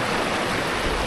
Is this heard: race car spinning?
no